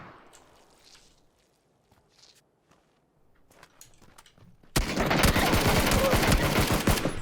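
Gunfire in the battle royale shooter PUBG: after quiet moments with faint scattered sounds, a sudden loud rapid burst of automatic fire starts and keeps rattling to the end.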